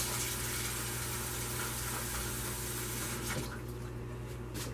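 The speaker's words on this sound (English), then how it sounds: "Now I've got some ice over here in a bowl. I'm going to put some water in it real quick." Tap water runs steadily into a bowl of ice in a kitchen, a continuous close hiss and splash that thins out toward the end.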